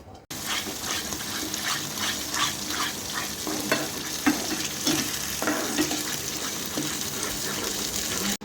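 A spoon scrapes and stirs thick ginger paste in a pan with soft rhythmic strokes over a low sizzle, no talking.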